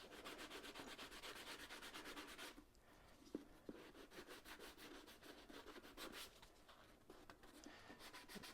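A fine sanding block, coarser than 320 grit, is rubbed back and forth over a Boba Fett helmet in rapid, steady strokes. The scratchy sanding runs almost unbroken and stays close and fairly loud, with one brief pause partway through.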